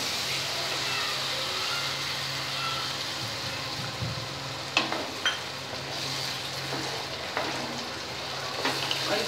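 Water goes into a pan of sizzling, well-fried spice paste for Bhetki fish curry, and the hiss turns into a steady bubbling sputter, with a few sharp clinks and stirring knocks close by and no voices.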